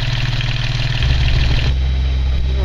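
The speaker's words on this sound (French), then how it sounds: "Première ressortie, premier essai moteur." A newly fitted boat engine on its first sea trial, running at around 2500 rpm: a loud, steady mechanical drone close by that shifts in pitch partway through, with no speech.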